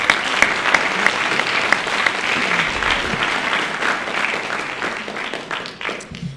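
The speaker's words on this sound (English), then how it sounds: "I'd like to give them a round of applause and thank them for all that they do." Loud audience applause at a high school winter band concert, dense continuous clapping with a few sharp individual claps standing out, gradually easing toward the end.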